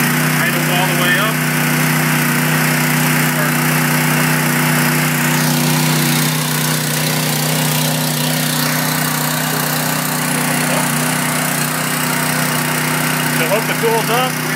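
Small gasoline engine on a TNT hydraulic rescue tool pump idling up after a choke start, a loud, steady, close drone that holds constant throughout with a slight shift in tone midway.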